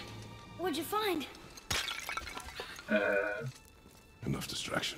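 A vase shattering in the video game God of War (2018), a sharp breaking crash in the middle of the clip, mixed with game voices talking before and after and other in-game sounds.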